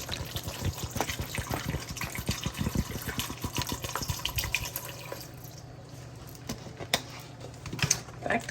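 Bottled water splashes and trickles into a hot toddy cocktail with irregular glugs and drips, fairly close, thinning out toward the end.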